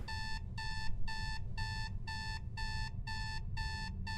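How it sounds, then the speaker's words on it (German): An alarm clock in the horror game Is Simon There? rings in rapid repeated bursts of bright electronic beeping, evenly spaced and steady over a low rumbling background, with no voice. "Ist der Wecker oben im Schrank?"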